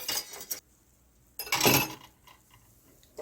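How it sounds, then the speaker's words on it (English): A whisk scrapes and clinks against a small metal saucepan while combining a mixture for cinnamon rolls, in two short, bright bursts separated by a near-silent pause. "we're going to just whisk this together to combine"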